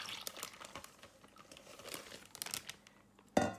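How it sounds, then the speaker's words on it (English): A plastic bag holding raw chicken and poured marinade crinkles and rustles in a run of close, irregular crackles, ending with a sharper louder crunch. "if you put your chicken into a plastic bag, and when we pour in our marinade"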